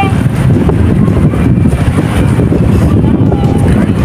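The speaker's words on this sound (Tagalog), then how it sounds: "Lakas ng hangin dito." Strong wind sweeps across Manila Bay's Dolomite Beach along Roxas Boulevard, a loud, constant low rumble buffeting the microphone, with voices faintly mixed in.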